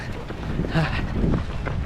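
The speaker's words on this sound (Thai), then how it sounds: "วิ่งริมทะเล ลมเย็นๆ" Cool sea breeze blowing across the microphone while running along the seaside during the Pattaya Marathon 2022, a steady rushing wind buffet with soft swells, close and fairly loud throughout.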